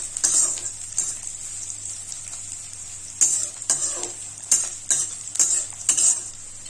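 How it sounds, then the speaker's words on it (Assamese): Chopped onions and green chillies frying in a pan for a rohu fish curry with ridge gourd and potato, stirred in several bursts of scraping and sizzling over a steady low hum, close and fairly loud. "পিঁয়াজখিনি ৰঙা ৰঙাকে ভাজি লম।"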